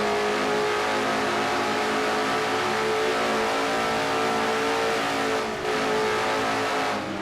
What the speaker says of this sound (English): Let's go for a ride with Dylan Young in car number 2, the Miller Genuine Draft Pontiac.